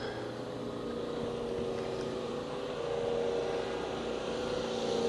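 A boat motors past with a steady engine drone and a faint tonal hum. The sound is fairly loud and continuous and swells slightly toward the end, with no talking.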